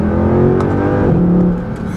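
A naturally aspirated car engine revs loudly up close, its pitch rising then settling over a couple of seconds.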